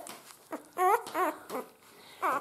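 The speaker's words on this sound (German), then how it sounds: "Dann kommt wieder unsere Hündin in schwarz-weiß, unsere Orakel." A black-and-white female puppy from a dog litter whimpers in a series of short, high, wavering cries, close and alone, with brief gaps between them.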